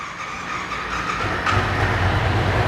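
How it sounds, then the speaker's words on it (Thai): A 2020 Yamaha MT-07 motorcycle with its stock exhaust runs at a steady idle close by, giving a low, even engine rumble that grows slightly fuller partway through, with no talking. "คงเป็นท่อเดิมจะมาฟังเสียงท่อคันนี้กันครับ"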